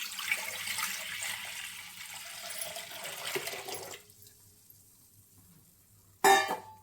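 A small cooking pot is rinsed under a running tap, a steady hiss of water for about four seconds, then near quiet, then a brief loud splash at the end; no talking.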